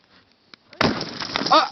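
Thin ice breaks with a sudden crisp crack under a dog, followed by a second of crunching and splintering, close and fairly loud after a near-silent start.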